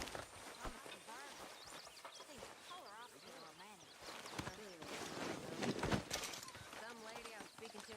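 Horse hooves clip-clop in Red Dead Redemption 2, a steady rhythm of footfalls running under near-continuous conversation between characters, with faint background sounds.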